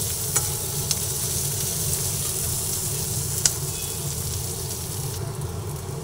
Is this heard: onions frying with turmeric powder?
yes